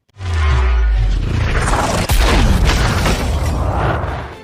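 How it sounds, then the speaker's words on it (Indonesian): A powerful cannon blast in the film Stalingrad (2013) booms out with a loud, sustained roar, a sharp crack midway and debris rumbling afterward, close and dominating. "Dan seketika meriam itu menghantam Kapten Gromov."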